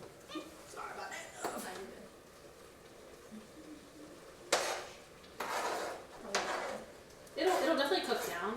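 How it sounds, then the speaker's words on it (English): Utensil scraping against a cooking pot while stirring a large mound of onions seasoned with pepper and Mrs. Dash, in short bursts of scratchy clatter with quiet pauses between, ending in a longer rough scrape. "I hate the scraping sound and I apologize"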